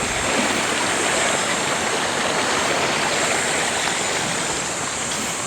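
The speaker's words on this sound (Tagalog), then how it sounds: "Maganda yung agos ng tubig dun." Continuous rushing of the Mariano River in Trece Martires, Cavite, Philippines, a full, steady wash of sound close by with no pauses or voices.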